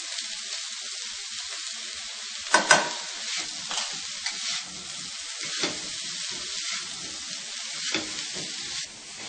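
Potatoes and fenugreek leaves with dry spices are stirred in a sizzling pan, a steady frying hiss broken by several scraping stir strokes, one sharp clatter early on, no talk.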